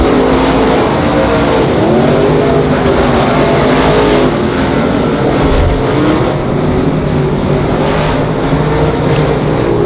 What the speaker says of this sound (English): Tom Walt, your leader, works us on down into turn number 3